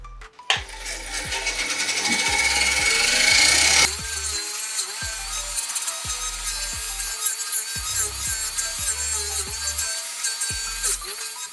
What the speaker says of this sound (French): Moi, j'ai l'habitude de nettoyer à la brosse. Soit avec mon petit touret, soit avec la perceuse.